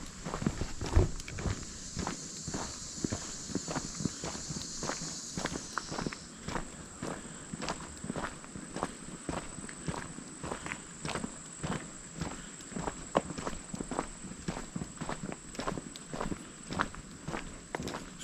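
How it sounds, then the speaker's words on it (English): Steady crunching footsteps of several people walking together on a hiking trail in Red River Gorge, a quick even rhythm like marching, close and fairly quiet, alone without talk. "Sound like we're marching."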